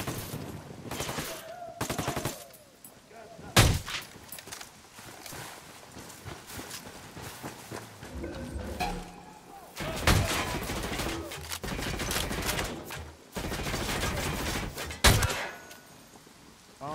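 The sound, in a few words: gunfire from the video game Ghost Recon Wildlands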